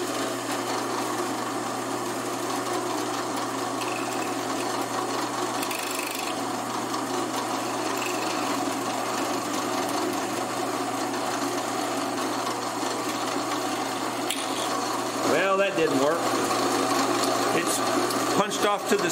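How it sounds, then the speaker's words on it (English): A drill bores a small hole into hard, tough metal, its motor giving a steady, unbroken whine for the whole stretch, with a person talking over it. "I've got this ready to drill, so let's see what happens here."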